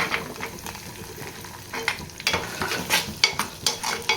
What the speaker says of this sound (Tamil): கலர் மாறுற வரைக்கும் நல்லா வதக்கிக்கோங்க